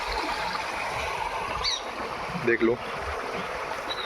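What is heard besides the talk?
flowing water of a stream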